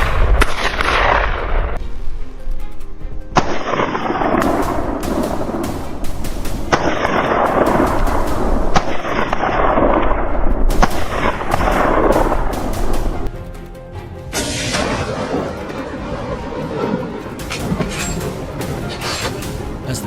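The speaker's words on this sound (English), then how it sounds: "our team opened fire. Bullets thundered through the jungle air" Rapid bursts of loud gunfire crack in clusters during a wild boar hunt in jungle, repeated shots blending into a dense rattling barrage that continues throughout, with no voices.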